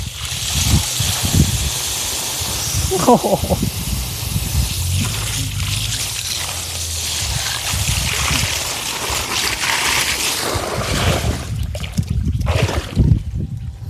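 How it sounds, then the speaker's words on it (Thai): Strong water jet from a centrifugal pump sprayer on a wheeled cart, pushed through a 50-metre hose, giving a loud continuous rushing hiss with some splashing and a few knocks and handling noises. "น้ำแรงๆแบบนี้เลยครับ"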